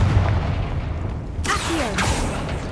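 A Confringo fire spell bursts in Hogwarts Legacy gameplay. A dull booming blast hits over a rumbling game backdrop, with a sharp crackling flare in the middle.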